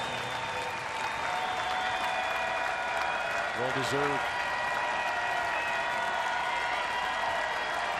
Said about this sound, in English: now he gets a standing O from the crowd